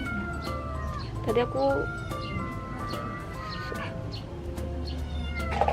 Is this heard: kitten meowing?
yes